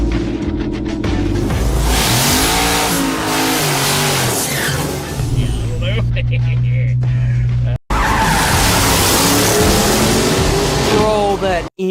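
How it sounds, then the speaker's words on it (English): A drag racing Charger and an off-road Corvette rev hard with loud engine roars and climbing revs, tires squealing as they launch. There is a brief cut near the middle, and voices talk over the noise. "that engine sounds insane"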